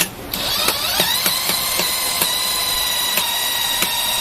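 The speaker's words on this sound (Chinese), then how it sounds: "目前可以通电，但是它马达好像卡住了，所以我们先把它运转看看。" A Kio KQ200 booster pump motor, jammed and hard to turn, starts up with a steady high whine and harmonic hum, ticking in a regular rhythm about every quarter second, close and fairly loud with no talk.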